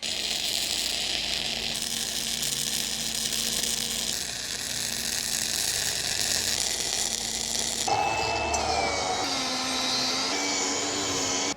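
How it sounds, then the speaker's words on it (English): A Titanium 200 welder welds spring saddles onto a trailer axle, a steady loud sizzling, buzzing hiss that runs continuously, shifting in tone partway through, with no talking. "so I'm gonna weld these saddles on"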